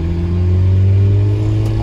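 Peugeot 206 1.4 exhaust pipe under acceleration, recorded onboard: a loud, close, steady droning hum with a rising pitch as the revs build, no voices.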